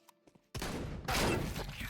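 Gunfire in Counter-Strike 2, a few faint clicks then an abrupt loud burst of shots, followed by a second, even louder blast that rings out and slowly fades.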